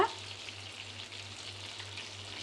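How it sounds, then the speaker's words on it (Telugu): Fish fries slowly in hot oil with a soft, steady sizzle at low volume and a constant hum beneath it, alone without talk. "ఇలా నెమ్మదిగా కనుక ఫ్రై చేసుకుంటే క్రిస్పీగా వస్తుంది చేప"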